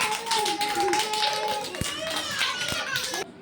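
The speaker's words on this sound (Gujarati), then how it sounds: "ચાલો, બધા પોતપોતાની તાળી પાડી વાળો" Children clap together during a colour-learning game, a crisp burst of many small hands over lively young voices, stopping abruptly at the end.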